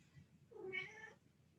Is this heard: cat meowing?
yes